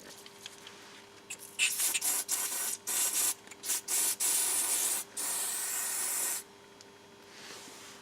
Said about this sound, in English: What I use is a leak finder, which basically is a spray containing water with soap.